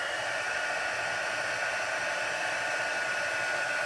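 A heat tool blows a steady, loud whooshing stream of hot air while heat embossing a Halloween raven card, continuous and unbroken with no voices.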